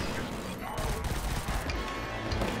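Gunfire in the first-person shooter Killzone Shadowfall as a sign is shot away, a dense, continuous burst of shots and impacts filling the whole moment with steady loud clatter.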